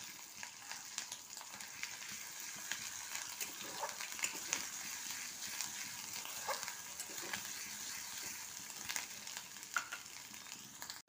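Ginger and garlic paste sizzling in hot oil in a pan, a faint continuous crackle with small pops and scattered spoon clinks.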